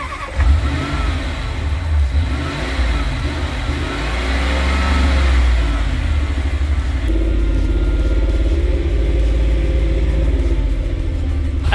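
A 4.6-liter supercharged V8 in a cheap used Range Rover runs and revs roughly close by, its engine note rising and falling with uneven, stumbling misfires.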